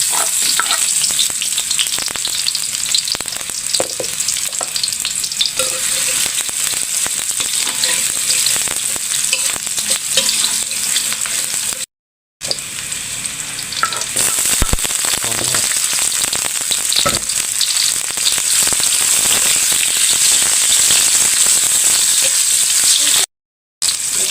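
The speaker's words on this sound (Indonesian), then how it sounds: "Kita tumis dulu bawang merah, bawang putih." Shallots and garlic sauté in a hot pan for a capcay dish, a dense steady sizzle with occasional stirring scrapes, loud and close, broken by two brief silent gaps.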